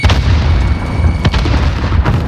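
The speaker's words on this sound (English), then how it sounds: "Throwing grenade." A grenade detonates in the online shooter game with a C58 rifle in play, one dense low boom and rumble that fills the whole short moment, with sharp bursts around it and no talking.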